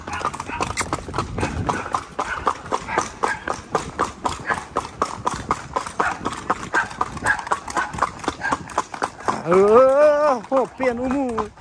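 Horse hooves clip-clop in a fast, steady rhythm throughout a horseback ride, loud and close, with people talking over them and a horse whinnying near the end.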